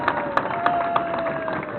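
A crowd applauding at a soapbox race in Tournes, steady brisk clapping with a few sharper claps on top and a faint tonal note running through.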